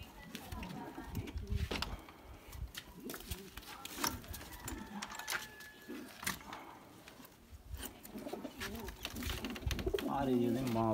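A pair of Khali pigeons kept by a Punjabi pigeon fancier coo repeatedly at close range, the soft calls recurring among rustling and handling noise.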